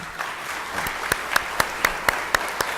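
An audience at an academic plenary session claps, building into a rhythmic, fairly close round of applause with loud regular beats.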